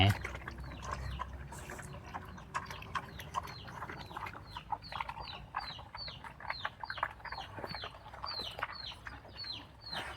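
Chickens clucking and chirping around a rural village yard, many short repeated calls at close to mid range, with someone speaking over them.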